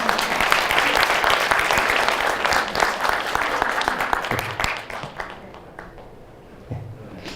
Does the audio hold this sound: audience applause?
yes